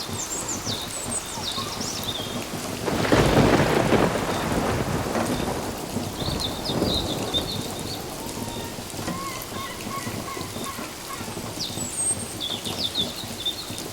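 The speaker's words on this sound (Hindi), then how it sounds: "तो बस बारिश सुनते रहिए" Steady rain pours down over the whole stretch, swelling louder for a few seconds in the middle, with a low rumble of thunder rolling through beneath the hiss and patter.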